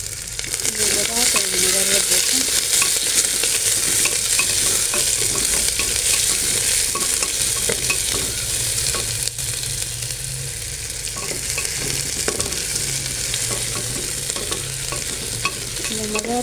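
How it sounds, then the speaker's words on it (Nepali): Chopped onions hit hot oil with bay leaf and cardamom for egg biryani, giving a steady close sizzle and frying hiss throughout with occasional stirring clatter of a spoon in the pan. "त्यसपछि चप गरेको प्याज हाल्छौँ"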